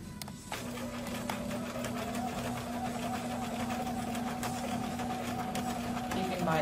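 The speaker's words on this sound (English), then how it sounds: "Keeping my edges together, I'm sewing 1/4 inch." A sewing machine sewing a quarter-inch French seam with a regular stitch runs steadily and closely for several seconds, its motor whirring at an even pitch with a rapid needle rhythm and no talk over it.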